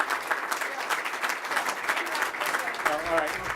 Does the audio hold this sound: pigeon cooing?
no